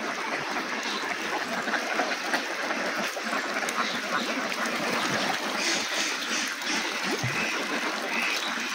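Jinding ducks on a farm bathe and drink in a water pool, with scattered quacks over constant splashing and running water. The busy watery noise holds steady and fairly close throughout.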